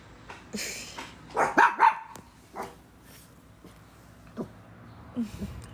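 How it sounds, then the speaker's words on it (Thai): A dog barks in a few sharp bursts, clustered early, with scattered quieter yips and barks afterward, close by in an indoor setting. "เห่าไปเรื่อยเปื่อยมาก"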